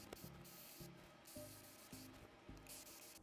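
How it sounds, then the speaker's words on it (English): Harmonize Beauty Defend and Detangle spray is misted onto wet curly hair in five quick, evenly spaced pumps, close and soft. "I'm just spraying the Harmonize Beauty Defend and Detangle on me again"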